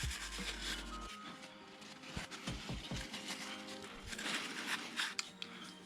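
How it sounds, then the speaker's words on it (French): A clean rag wipes the oil filter gasket seat on an ER-6N motorcycle during an oil change, giving soft, faint, intermittent rubbing strokes close by with no talk. "Vous allez venir avec un chiffon propre nettoyer toute la portée du joint."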